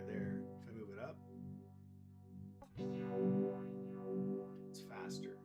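A sustained electric guitar tone sweeps slowly up and down through an EarthQuaker Devices Night Wire phaser, the notch rising and falling in repeating waves.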